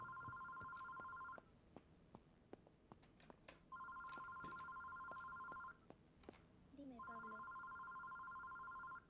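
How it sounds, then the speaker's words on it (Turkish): A telephone rings in repeated electronic bursts with pauses between, loud and close, while people talk and move around it. "Telefon nerede çalıyor?"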